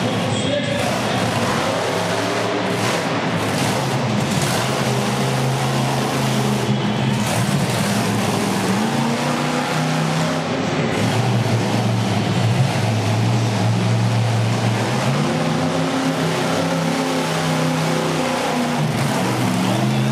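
A monster truck on the Toughest Monster Truck Tour in Youngstown, Ohio roars through a freestyle run onto a motocross ramp, its loud engine continuously revving and surging under commentary.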